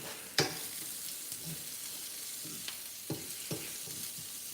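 Onions frying in a pan alongside steak, a faint steady sizzle punctuated by a few sharp scraping stirs and clinks of a utensil, no voices.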